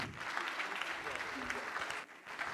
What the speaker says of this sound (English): That hand clap is not generous enough.